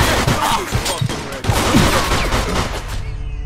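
Rapid gunfire erupts in the Mafia II video game, a dense volley of overlapping shots, loud and close, with a shouted voice briefly cutting through.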